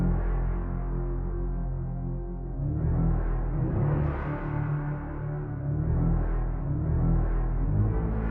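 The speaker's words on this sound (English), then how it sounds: "I have Off-World Volume 1 coming in, playing this sort of bass type synth sound." Off-World Volume 1 bass-type synth sound plays a muted, warm low-end line, steady and close with gently pulsing swells and no talk.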